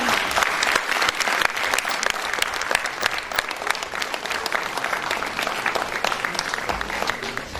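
At the AHPCON-2016 allied health sciences conference at AIIMS Delhi, an audience gives a loud, sustained round of applause, dense clapping throughout with a few faint voices underneath.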